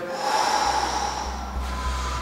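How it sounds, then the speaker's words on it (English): Deep breaths during an athletic warm-up, a few strong nasal inhales and exhales close to the microphone over a steady background hum. "Inhale, exhale."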